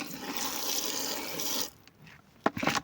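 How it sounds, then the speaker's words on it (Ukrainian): Water pours steadily into a slaked lime mixture for a moment, then stops, followed by a few short wet splashes and stirring sounds. "Я взяла половину воду додаю обережно і поступово."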